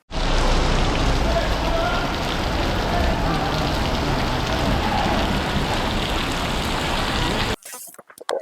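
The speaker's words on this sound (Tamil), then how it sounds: "செம்ம மழை பெய்யுது" Heavy rain pours down steadily in a dense, loud hiss that runs almost throughout, then cuts off abruptly near the end.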